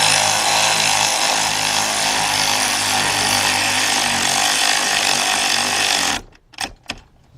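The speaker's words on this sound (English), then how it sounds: "I'm bringing this in and tightening it up." An impact tool rattles loudly and continuously while tightening the starter bolt on a 2001-2010 Chrysler PT Cruiser, then cuts off abruptly, leaving a few faint knocks and movements.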